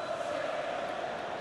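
A stadium crowd roars steadily in the FIFA 15 football video game, a dense, continuous wash of massed voices from the stands with no break.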